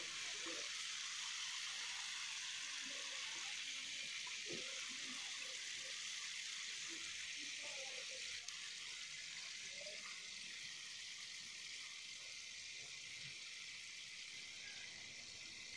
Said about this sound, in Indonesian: Ini kita goreng sampai warnanya berubah kecoklatan, sesekali diaduk